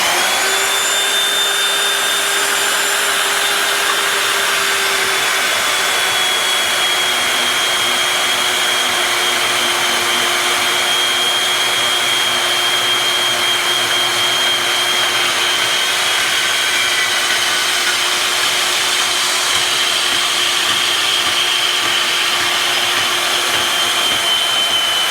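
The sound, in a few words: Harbor Freight bandsaw cutting 1/8 inch wall steel tubing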